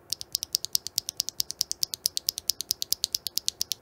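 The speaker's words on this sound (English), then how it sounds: "And here's the sound of a lubed and filmed Tecsee Neapolitan." A lubed and filmed Tecsee Neapolitan mechanical keyboard switch is actuated repeatedly, producing a fast, even series of crisp, close-up clacks, around two dozen in under four seconds, with nothing else audible.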